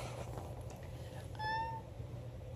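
A single clear cat meow rising and falling, fairly near, over a low steady indoor hum with a few faint background noises.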